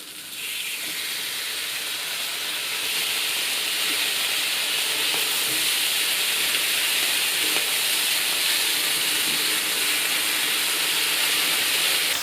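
Thick-cut homemade dry-cured back bacon frying in a hot pan gives a loud, continuous close sizzle that swells after a few seconds and holds steady.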